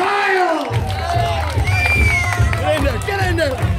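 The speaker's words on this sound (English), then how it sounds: "Give him a round of applause." An audience at an evening music performance in Castlemartyr applauds and cheers for a young performer, with clapping, whoops and excited shouting, lively crowd noise and voices throughout.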